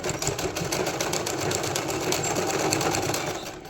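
Household sewing machine running steadily and close, stitching a child's garment made from reused old fabric, a continuous whirring chatter of needle strokes for a few seconds with no talking.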